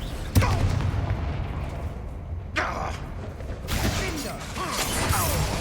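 Bombarda blast spells go off in Hogwarts Legacy, a sharp crack at the start followed by heavier booming bursts and rumbling debris, close and loud against a busy battle background.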